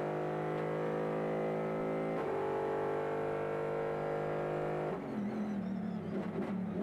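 A Super GT race car, heard onboard at the narrow, twisty Okayama circuit, holds a loud steady high-revving engine note, then shifts sharply twice with the tone changing each time. No voices are heard.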